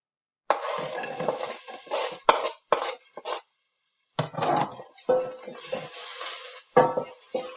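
Food stirring and sizzling in hot vegetable oil over medium-high heat, with scraping and clinking of a utensil against the pan in bursts, a short pause midway, then more stirring and sizzle.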